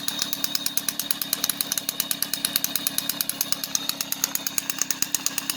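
Peugeot 103 SP moped with its original engine and a derestricted stock exhaust, idling close by with a loud, raspy two-stroke buzz and a rapid, steady pulsing putter throughout.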